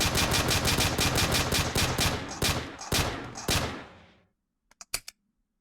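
Rapid handgun fire in the video game The Hadron Effect, a long loud burst of closely spaced shots that stops abruptly, followed by a few sharp clicks after a brief silence.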